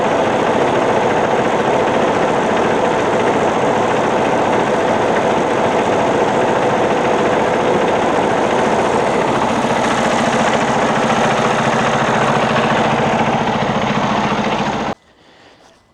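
A truck engine idles after an oil and fuel filter change, a steady, continuous rumble with a slight knock that runs unchanged for about fifteen seconds and then cuts off abruptly.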